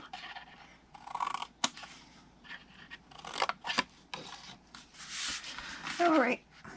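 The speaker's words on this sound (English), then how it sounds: "we're going to cut that all the way to the first score line again" Scissors cutting through paper or cardstock toward a score line for a small treat box, in a few short snipping bursts and rustles under ongoing talk.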